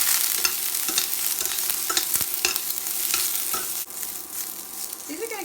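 Beef and vegetables stir-frying in a pan, a steady loud sizzle with scraping stirs and clatters, close and continuous without speech.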